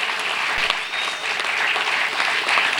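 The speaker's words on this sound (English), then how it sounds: "So please, a huge round of applause for him." Sustained audience applause at a book launch for a novel by a legal scholar, a dense, steady wash of many hands clapping throughout, loud and close with no talk over it.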